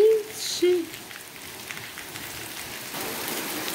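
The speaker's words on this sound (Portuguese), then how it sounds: "A chuvinha veio de repente. Olha que beleza. Bom demais a chuvinha mansinha, né?" Gentle light rain falls steadily outdoors on a hot day, a soft continuous patter with a faint voice briefly at the start.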